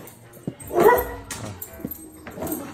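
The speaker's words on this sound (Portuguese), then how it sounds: "A gente vai colocar na tela para você ver o cão Brown se vendo na TV." A dog barks excitedly at its own image on a TV, giving a loud close yelp followed by smaller yips and whimpers, with a rising excited tone.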